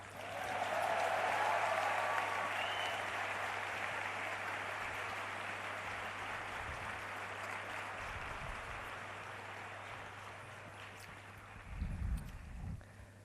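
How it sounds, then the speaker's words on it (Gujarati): Sustained audience applause fills a hall at a government appointment letter ceremony in Gandhinagar, steady and dense throughout, easing slightly toward the end with a few low thumps near the close. "હમણાં હસમુખભાઈ પટેલનું નામ બોલાય એટલે બધાને કેવી તાળીઓ પડે એમ"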